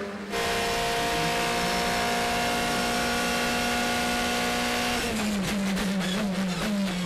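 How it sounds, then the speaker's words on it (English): A DTM race car at Hockenheim qualifying shifts down through its sequential gearbox, a loud steady engine note breaking into a rapid series of falling pitch steps and crackles in the final seconds. "To hear him going down the box there on the sequential."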